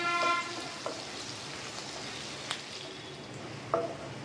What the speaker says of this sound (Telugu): ఈ వేగడానికి ఒక 2-3 నిమిషాలు అయితే పడతాయండి.